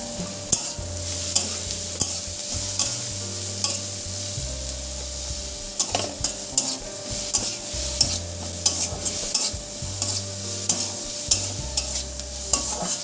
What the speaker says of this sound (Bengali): এবার সব কিছু ভালো করে বেশ কিছুক্ষণ সময় ধরে কষিয়ে নেব।